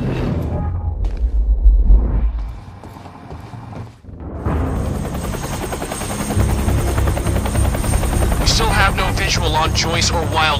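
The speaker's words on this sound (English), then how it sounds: "Better get inside before the chopper spots me." A helicopter in the video game Quantum Break, a loud rotor thump and rumble passing overhead, briefly fading then returning with heavy beating blades, while game voices talk over it.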